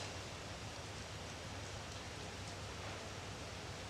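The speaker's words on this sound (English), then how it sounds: "there is an outrageous thunderstorm unfolding in Philadelphia, a downpour which has caused stark warnings for the area" Heavy rain pours down during an intense thunderstorm in Philadelphia, a dense, steady hiss with no thunder clap standing out.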